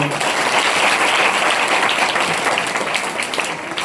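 An audience at a devotional Devi Purana recital breaks into loud, dense, sustained applause, a close wash of clapping throughout with no voices.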